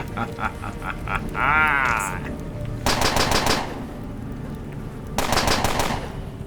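Assault rifle fire in the video game Underrail comes in loud, rapid bursts, two long volleys of closely spaced shots, alongside a warbling game effect and other background game sounds.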